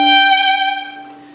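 A single sustained violin note from a Mozart concerto passage, played with delayed vibrato: the tone starts steady and plain, the wavering appears only later, and the note fades out alone over about a second and a half.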